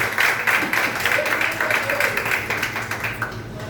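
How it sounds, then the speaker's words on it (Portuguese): A church congregation at a Sunday celebration service claps for Jesus, rapid dense hand claps from many people filling the room with a steady fluttering rhythm, with a faint voice underneath. "Bate palmas para ele, para Jesus e para ele."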